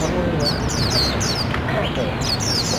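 White-eye birds kept by a bird club in Xuân Mai chirp in quick, bright bursts, several sharp calls repeating across the moment over a busy background hum, with voices faintly present.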